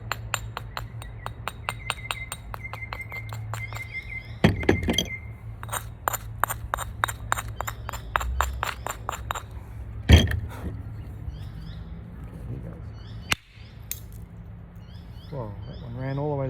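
Stone tools knapping a Solutrean flint biface give a series of sharp, glassy clicks and ticks. One heavier strike detaches an overshot flake. Someone talks quietly over the close, crisp tapping.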